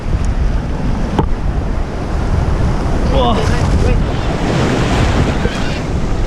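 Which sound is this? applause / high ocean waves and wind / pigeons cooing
high ocean waves and wind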